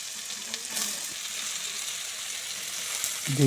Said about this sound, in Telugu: ఒక ప్యాన్ తీసుకొని ఆయిల్ వేసి అందులో మనము ఆలూని వేసి డీప్ ఫ్రై చేసుకోవాలి